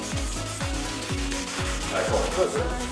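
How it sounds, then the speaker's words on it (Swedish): Steady back-and-forth scrubbing of a sanding block across the painted body of a Volvo C30, rhythmic and close, with a low repeating whoosh on each stroke. "Så ska hela bilen slipas ner."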